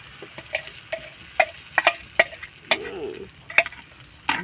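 Batter poured over vegetables and spices is stirred in a pan, giving sharp scraping clicks and taps of a utensil at irregular intervals over a low, quiet sizzle, close and alone.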